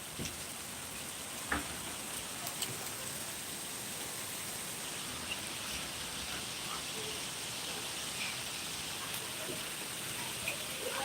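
Hail pours onto a road beside a house in Kashmir as a dense, even hiss of countless small impacts, steady and unbroken, with a few sharper knocks standing out now and then.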